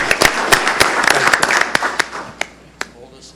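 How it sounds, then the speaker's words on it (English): A short round of applause at a township board of commissioners meeting, with sharp, distinct claps from a small audience that quickly thin out into a few scattered final claps. "round of applause for Calmer"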